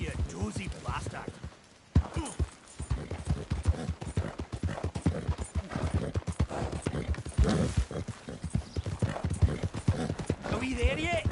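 Horse hooves clip-clopping steadily in Red Dead Redemption 2, with a brief whinny, close and continuous under a voice talking throughout.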